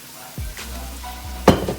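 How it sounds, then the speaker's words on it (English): Shrimp paella sizzles and fries in a pan, a soft continuous crackle with a couple of stirring scrapes and a brief louder clatter near the end. "And let it sizzle some more."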